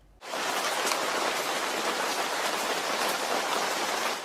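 Steady, dense rain falling hard and close, a continuous hiss of drops spattering on pavement with no pauses throughout.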